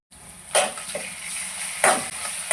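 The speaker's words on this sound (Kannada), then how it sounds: "ಎಣ್ಣೆ ಒಳಗೆ ಚೆನ್ನಾಗಿ ಫ್ರೈ ಆಗಬೇಕು." Ginger garlic paste and a spoonful of green chutney fry in hot oil in a pan, giving a steady close sizzle broken by a few sharper spatters or stirring clicks.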